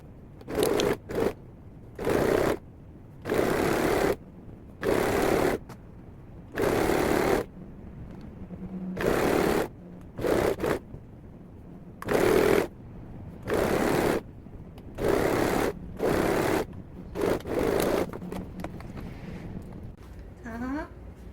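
A sewing machine stitches the hem of elastic-waist shorts at a 1.5 cm seam allowance, running in repeated bursts of a second or so, separated by short pauses, close and steady.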